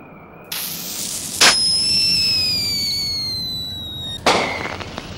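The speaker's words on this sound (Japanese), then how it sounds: "花火だよ" Video game fireworks crackle and burst in Detective Conan vs. Kaito Kid, with several long whistling tones gliding overhead between two sharp bangs, loud against a steady background hiss.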